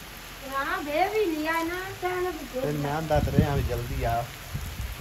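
Steady rain pours down, with people talking loudly over it throughout.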